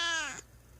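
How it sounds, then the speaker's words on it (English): A cat gives one loud, close meow with a bright, drawn-out cry that falls away, followed by a brief quiet tail. "those are really good meows"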